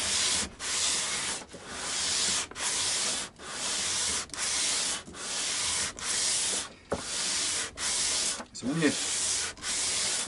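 Steady back-and-forth hand sanding on a guitar part, a loud close rasping stroke about every second with short gaps between passes, no talking over it.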